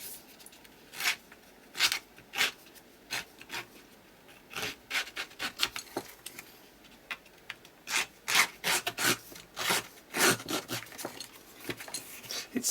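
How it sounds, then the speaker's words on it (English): A craft project surface is given a light scuff by hand, producing a series of short, dry rubbing strokes in irregular bursts, close and fairly quiet, with no talking. "And then I'll just give it a light scruff."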